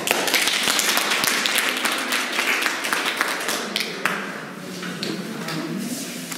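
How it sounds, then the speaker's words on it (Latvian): An audience at an architecture lecture claps steadily for several seconds, dense applause that gradually thins out toward the end. "Lūdzu, aplausi!"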